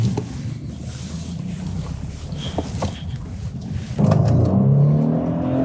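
A BMW 328i engine with a stage 1 tune rumbles under wind noise, then revs harder and climbs in pitch as the car accelerates on a test drive.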